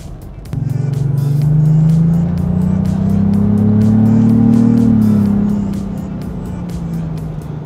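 Engine note of a Lexus GX 550 in sport mode, synthesized through the cabin speakers, starts abruptly and hums loudly, rising in pitch as it accelerates, then eases off.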